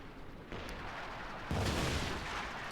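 An infantry gun fires in Company of Heroes 2, giving a couple of dull, distant booms over a continuous battlefield rumble, with no voices.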